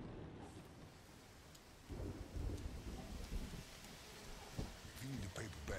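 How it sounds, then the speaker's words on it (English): Heavy rain and rolling thunder in the video game Blues and Bullets, a steady wash of rain with low rumbles swelling from about two seconds on, playing under character dialogue. "Raining hard."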